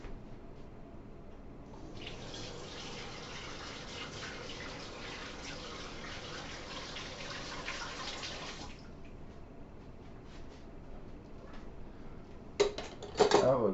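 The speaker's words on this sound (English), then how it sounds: "Let me go rinse my spoon." A spoon rinsed under a running kitchen tap, steady water flow for several seconds with light clinks of metal, followed by a few louder clatters near the end.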